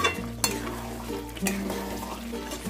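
Chicken curry being stirred in a pot after cooking covered, a low steady bubbling sizzle with occasional utensil scrapes and knocks against the metal, close up with a constant hum behind.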